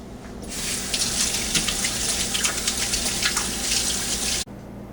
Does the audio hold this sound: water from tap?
yes